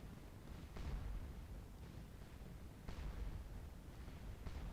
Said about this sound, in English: his division has inflicted 8 casualties on the enemy via this artillery battery over here on the left